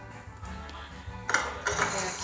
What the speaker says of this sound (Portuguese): Agora tem que pegar a colherzinha pra tirar